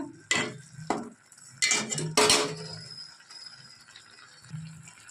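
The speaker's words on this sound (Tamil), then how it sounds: "அதை போட்டுக்கலாம் கிளறி விட்டுக்கோங்க" A spoon stirs brinjal and chana dal kootu with ground coconut in a pan, making several loud close metallic scrapes and clanks in quick bursts, then quieter rattling, with no voices.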